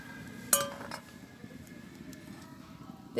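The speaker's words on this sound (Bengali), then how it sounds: "স্ট্যান্ডটা দিয়ে দিলাম।" A metal stand set down inside a kadai pan of water on the stove, one sharp metallic clink followed by a brief rattle, close and fairly quiet against a soft background hiss.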